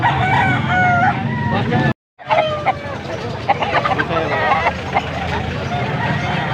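Roosters crow repeatedly and loudly nearby at a market, one call overlapping the next, with a brief silent cut and faint chatter in the background.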